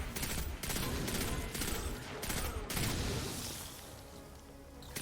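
A pulse rifle fires in Destiny 2, rapid clustered bursts of shots in steady succession that fade into quieter ambience toward the end.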